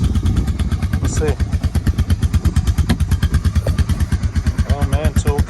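A Honda Fourtrax 300 4x4 ATV's air-cooled engine runs at a steady, rhythmic idle close by, with brief voice sounds over the continuous chugging.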